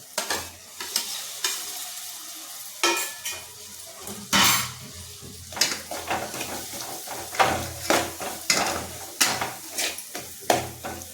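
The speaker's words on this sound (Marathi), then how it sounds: "वाटण छानपैकी मिक्स करून घ्यायचं टोमॅटोमध्ये" Ground masala paste is stirred into softened tomatoes in a pan, a spoon scraping and clinking steadily against the metal over a low sizzle, close and alone with no talking.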